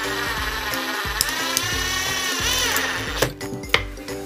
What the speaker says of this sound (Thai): โอเคเดี๋ยวเราไปเจาะกันเลยครับ